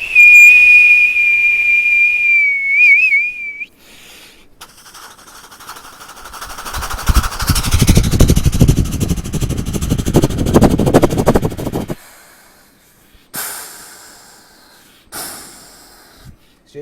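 A mimicry artist vocally imitates a coal-fired steam train: a long steady whistle, then rough rhythmic chuffing that builds loud and dense before cutting off, followed by a few short bursts.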